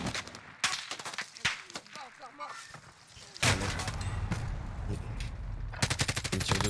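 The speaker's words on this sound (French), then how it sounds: "Il me tire dessus aussi." Gunfire in the video game Warzone, with scattered shots giving way to loud, sustained bursts of automatic fire up close, while players talk excitedly over the shooting.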